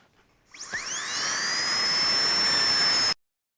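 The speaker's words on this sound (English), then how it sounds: "Let the drilling commence." A dentist's drill sound effect spins up with a rising whine and holds a steady, piercing high-pitched tone for a few seconds before cutting off abruptly.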